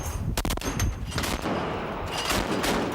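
Rapid bursts of naval gunfire during a ship's gunnery readiness exercise aboard the USS LaSalle, loud and dense shots overlapping in quick succession with a continuous roar of blasts and echoes.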